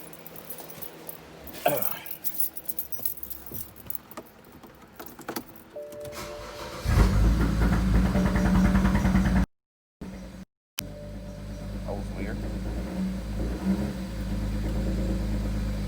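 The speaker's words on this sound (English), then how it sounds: "let's pray that the car starts up fine" Keys jingle and a starter cranks before a BMW E92 335i engine with a 3.5 bar MAP sensor catches and settles into a steady, rumbling idle, briefly cutting out twice before continuing.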